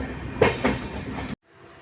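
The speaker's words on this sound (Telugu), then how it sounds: "4వ స్టేషన్కి అయితే వచ్చేసింది బండి." The 22503 Vivek Express, running from Kanyakumari to Dibrugarh, pulls into a station with a steady close rumble and rolling clatter, two louder wheel knocks, then an abrupt cut to near silence.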